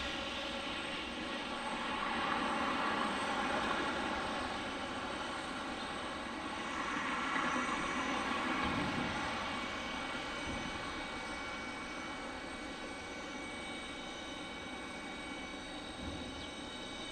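Aircraft at Detroit DTW airport, a continuous broad engine roar that swells and fades slightly as planes pass. No voices are heard over the noise.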